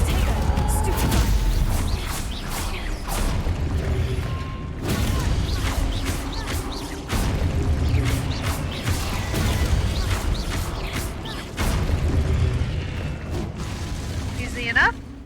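Stupefy stun spells cast in combat in a Harry Potter wizard video game, heard as repeated bursts, crashes and magical impacts over game music and effects, with a voice talking throughout.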